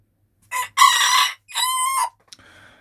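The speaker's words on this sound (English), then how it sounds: "they were really quiet, those chickens, before I started, and now they aren't anymore" A rooster crows loudly and close by in a remote corner of Uzbekistan, a long harmonic cock-a-doodle-doo in two drawn-out bursts, followed by a brief softer call.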